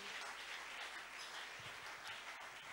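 A church congregation applauding together at a large prayer gathering, steady sustained clapping heard at a moderate distance without voices standing out.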